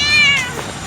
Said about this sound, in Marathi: आमचं मांजर आजारी पडलंय म्हणून त्याला दवाखान्यात घेऊन चाललोय आम्ही.